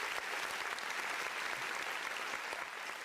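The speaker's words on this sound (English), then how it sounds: "So please big round of applause once again to Sister Dina." An audience applauds at a trade union rights workshop, steady, dense clapping from a room of people, moderately distant and continuous throughout.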